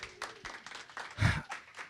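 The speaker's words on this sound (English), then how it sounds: "Round of applause for that one." A small group at a Pride event gives a brief, scattered round of applause, with light separate claps swelling into a short louder burst before thinning out.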